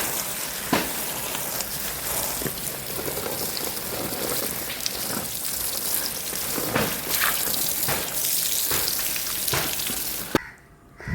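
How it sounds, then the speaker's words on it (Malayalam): Water gushes forcefully from a garden hose onto plants in a steady, loud hissing spray with occasional splashy bursts, then cuts off abruptly near the end. "ഭയങ്കര ഫോഴ്സിലാണ് വെള്ളം വരുന്നത്"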